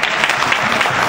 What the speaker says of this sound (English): I just want to give Mr. Cedeno a round of applause